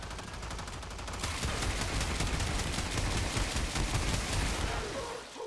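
Rapid continuous automatic fire from the Sporelacer kitgun in Warframe, a dense rattling burst of shots that starts after a second and runs steadily for several seconds, loud and close, with a faint voice underneath.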